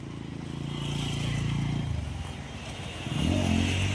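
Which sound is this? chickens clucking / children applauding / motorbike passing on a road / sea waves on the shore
motorbike passing on a road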